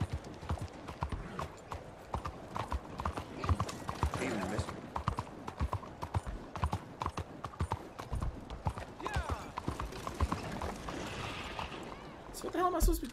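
Rapid, rhythmic hoofbeats of a horse galloping close by, with a brief whinny near the end, in the video game Red Dead Redemption 2.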